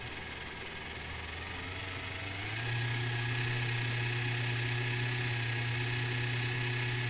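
The electric motor of a Jouef model EMU train whines and hums steadily, rising in pitch and level partway through as the speed is turned up, then holding a constant close drone, with no talking.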